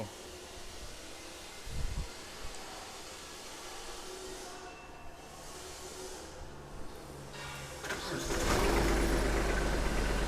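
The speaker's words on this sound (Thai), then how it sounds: "อ่าตอนนี้เราติดเครื่องแล้วนะครับ" A small 24 hp tractor engine runs with a steady low drone throughout, growing noticeably louder and heavier near the end.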